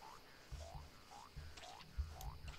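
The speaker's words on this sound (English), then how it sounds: "should we go for the frog?" Repeated short croaks from a frog in the survival video game Don't Starve, five or so rising calls spaced about half a second apart over a low game ambience, fairly faint.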